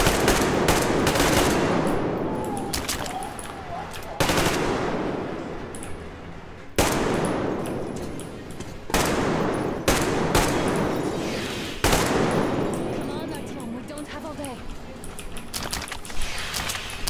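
A machine gun fires in Metro Exodus in sharp loud bursts separated by short pauses, each burst cutting off abruptly with metallic clangs between them.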